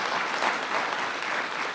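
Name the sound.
audience applause for faculty at graduation ceremony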